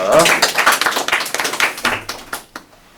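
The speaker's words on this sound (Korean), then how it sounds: "자, 박수 한번 주세요." Brief audience applause at a Korean talk show on the digital divide, a burst of clapping from a small group that fades and thins out within about two seconds, with some talking mixed in.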